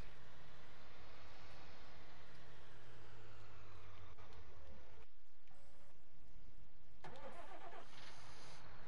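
Farm vehicle engine in a farming video game runs steadily and fairly loud, cutting out briefly near the middle before a sharper burst of engine and mechanical noise toward the end; no voices.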